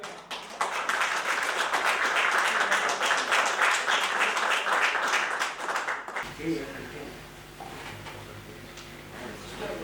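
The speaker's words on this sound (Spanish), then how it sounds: "le damos la bienvenida con un fuerte aplauso para los dos" An audience claps loudly for several seconds, then the applause stops and a voice begins speaking over a quiet room.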